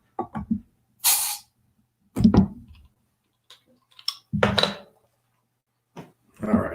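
A bottle of Cerveza del Montseny Negra stout is opened with a bottle opener. There are scattered close clicks and clinks of handling and a brief hiss of escaping gas, with quiet gaps in between.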